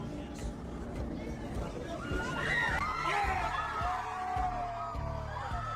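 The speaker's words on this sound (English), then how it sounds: "you hear people cheering outside the courthouse" A crowd cheers outside a courthouse after a not guilty verdict in the Karen Read case, a sustained distant swell of whoops, yells and hubbub with talk over it.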